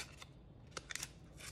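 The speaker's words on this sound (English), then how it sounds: "now I'll just cut this little piece of paper" Scissors snipping a small piece of paper in a kitchen while making homemade burgers, a quick run of three or four crisp close cuts, with no talking.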